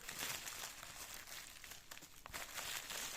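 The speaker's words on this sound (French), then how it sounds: "Désolée pour les bruits de scotch, il faut bien que je les enlève" Continuous crinkling and tearing of packing tape being pulled off a cardboard package, close and steady throughout, with no talking.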